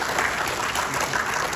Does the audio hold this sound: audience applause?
yes